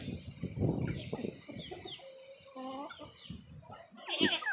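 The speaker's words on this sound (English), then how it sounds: "We have nothing but wild, unruly, dangerous chickens." Backyard chickens cluck and squawk close by, a busy run of choppy calls and short rising notes ending in a louder squawk.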